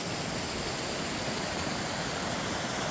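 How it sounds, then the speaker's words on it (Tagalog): Mountain stream water rushes in a steady, dense broadband wash, constant and fairly close with no voices over it. "Yung agos yan."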